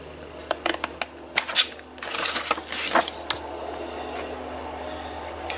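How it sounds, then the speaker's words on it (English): Scissors cut along a scored paper line while making a faceted box, with a run of sharp, close snips and crisp crunches followed by softer paper rustling. "we're going to cut down this score line"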